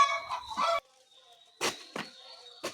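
Poultry on a farm give short clucks and squawks in separate bursts with quiet gaps between, fairly close and with no one speaking.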